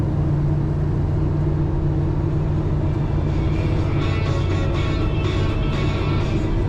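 A 1965 Chevrolet C10 pickup truck drives along, its engine and road noise forming a loud, steady, low rumble that stays close and continuous throughout.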